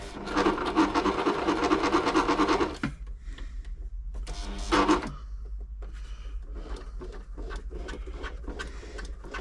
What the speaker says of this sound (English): Very stiff machine, struggling to zigzag in time.